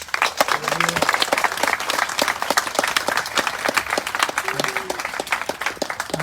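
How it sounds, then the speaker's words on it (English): An audience at a student art exhibition award ceremony claps steadily in a dense burst of applause, with voices calling out over it. "So how about a round of applause for all of our students tonight?"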